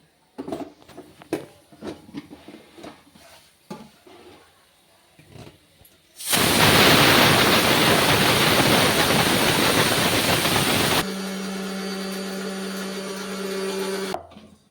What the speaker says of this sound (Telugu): ఫస్ట్ ఇదైతే మిక్సీ పట్టేసుకుందాము